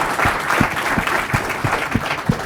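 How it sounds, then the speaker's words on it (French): An audience at a live podcast event applauds, a brisk burst of many hands clapping with rhythmic, close claps standing out over the crowd's patter. "on peut lui donner une main d'applaudissement."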